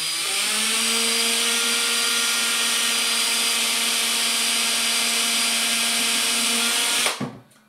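A power drill fitted with a 1mm bit runs steadily for about seven seconds while fitting a guitar pickguard bracket, giving a loud, close, continuous whine with a constant pitch that cuts off abruptly.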